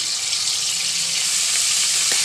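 A paste of onion, garlic, ginger and cumin sizzles steadily and loudly in hot oil, a close, continuous frying hiss with a faint clink near the end.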